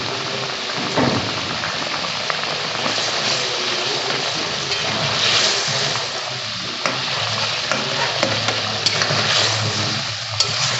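Rohu fish in poppy seed gravy simmering in oil in a pan, giving a steady close sizzle and bubbling crackle with scattered pops and no talk.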